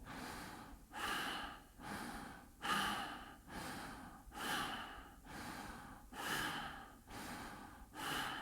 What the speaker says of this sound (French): J'inspire, je gonfle, j'expire